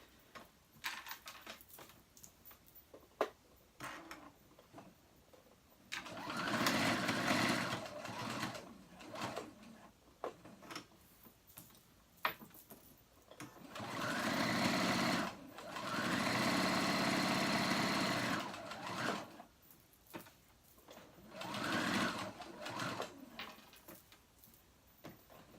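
A sewing machine runs in several bursts of straight stitching across fabric for boys' fly-front pants, each run a steady whirring hum of a few seconds separated by short pauses and quiet handling.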